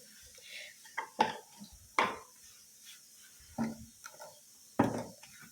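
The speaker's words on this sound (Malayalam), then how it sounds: "നമുക്കിപ്പോൾ ഇവിടെ എല്ലാം എടുത്തൊന്ന് തുടച്ചു കൊടുക്കാം" Kitchen utensils and pots are lifted, wiped and set down during house cleaning, giving several separate clinks and knocks of metal and wood spaced a second or so apart over a quiet background.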